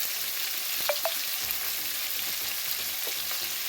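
Cauliflower frying over medium heat in a pan with salt and turmeric, a dense continuous sizzle with a couple of brief metallic clinks early on.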